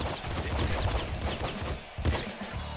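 Dense gunfire and explosions in the video game Nuclear Throne form a loud, continuous rattle of shots and blasts with a brief dip before a final burst.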